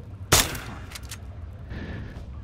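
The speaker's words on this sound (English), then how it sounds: "Your BB gun? Just aim and shoot." BB gun shots at a radroach in Fallout 3: one sharp, loud crack, then two fainter pops and a softer tone, set against a quiet game ambience.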